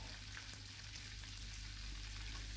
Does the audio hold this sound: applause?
no